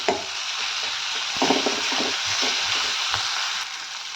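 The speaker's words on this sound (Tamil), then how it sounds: "நல்லா வதக்கி விட்டுக்கலாம்" Coriander leaves sautéing in a pan for tomato sambar give a steady, close sizzle with scattered stirring scrapes throughout and no talk.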